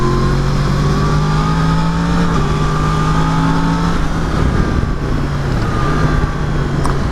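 A 2019 Yamaha MT-10 motorcycle engine pulls hard under acceleration, its loud, close whine rising through the revs, dropping briefly at a gear change, then climbing again.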